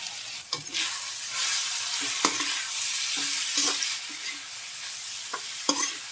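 A steady sizzle of cabbage and capsicum frying in a hot pan for masala pasta, with intermittent scraping and stirring clatters from a utensil, close up.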